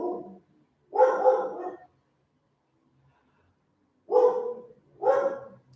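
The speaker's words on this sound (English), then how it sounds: "My dog's even wanting to be a part of it." A pet dog barks nearby in a quiet room, one short volley followed after a pause by two more distinct barks.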